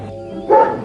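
A guard dog at a farm refuge lets out a single close, loud bark midway through, with quiet before and after.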